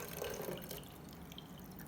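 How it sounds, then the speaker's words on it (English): Homemade insecticide pours through a sieve into a spray bottle, a faint, steady trickle of liquid with light dripping over about two seconds, no voices. "you are going to sieve it, pour it into the bottle for the spray"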